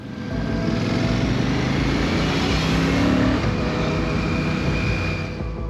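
Royal Enfield Classic 650 motorcycle being ridden on a scenic road in India, a steady engine drone mixed with strong wind rush, loud and continuous with no voices.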